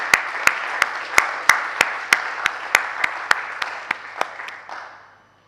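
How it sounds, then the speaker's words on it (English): Audience applause at a Science, Ethics and Human Development event: a soft wash of clapping punctuated by about fourteen sharp, evenly spaced claps close by, steady in rhythm, then fading out at the end. "So strong applause."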